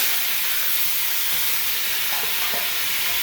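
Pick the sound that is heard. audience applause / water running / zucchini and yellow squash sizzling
zucchini and yellow squash sizzling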